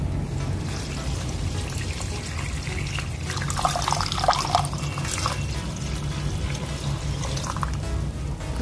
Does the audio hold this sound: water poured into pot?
yes